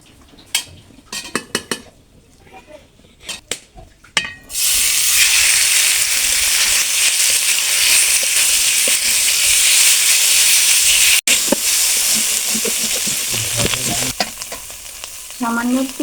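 Marinated chicken hitting hot white oil in a kadai: a few metallic clinks, then a sudden loud, steady sizzle and crackle that fills the rest, with occasional utensil taps.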